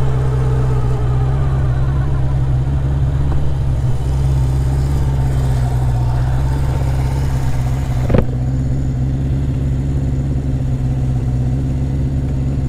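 A Honda CB750 Four motorcycle engine runs close by with a steady, loud mid-pitched rumble and slight variations in revs, and one sharp knock partway through.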